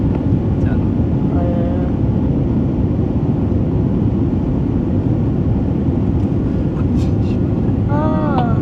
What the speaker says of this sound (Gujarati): ઉપડી ગયું પ્લેન